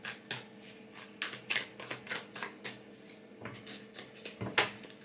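Tarot cards are shuffled and drawn in a quick series of crisp riffling and slapping bursts, close and fairly quiet, with no talking.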